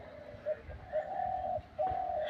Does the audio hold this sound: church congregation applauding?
no